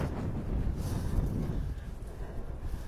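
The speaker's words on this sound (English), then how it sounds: "You can probably hear the wind." Wind gusts through narrow old streets in Lerwick, capital of the Shetland Islands, buffeting the microphone with a low rumbling roar that swells and eases over a few seconds, with no talk.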